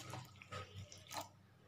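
Water is poured into khandvi batter, a short close splash and trickle coming in a few quiet bursts.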